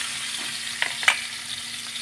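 Onion sizzling in a pan for a home-cooked chayote adobo, a steady close crackle of frying with a couple of brief louder stirring scrapes near the middle, no talking.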